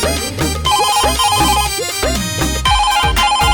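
A phone ringtone plays loud and close, a repeating melodic electronic tune with a beat pulsing in even bursts and no voices over it.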